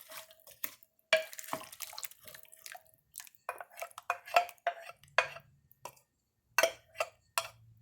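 A mixture poured over food in a slow cooker, heard as a series of close wet drips, splats and light clinks in irregular bursts with quiet gaps between.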